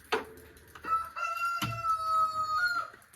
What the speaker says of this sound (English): The rooster seems to like it.